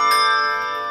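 A single handbell struck once in a bell class, a bright clear tone that rings on and gradually fades over a second.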